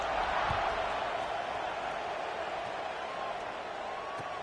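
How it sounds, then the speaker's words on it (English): A steady crowd buzz fills a stadium in a Penn State college football video game, continuous and fairly loud from start to finish without any talking. "this crowd is buzzing after that last score"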